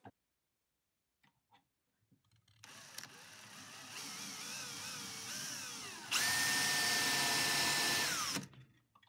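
A power drill drives screws into a brass hinge on an old Hoosier cabinet, a rising whine that runs several seconds, jumps to a louder higher-pitched burst, then stops.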